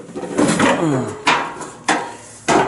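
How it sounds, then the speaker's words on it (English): The hood of a Simplicity Conquest 4x4 garden tractor is opened, giving a few sharp metallic clanks and thumps spaced about half a second apart, close by, after some brief shuffling. "Let's open the hood up again."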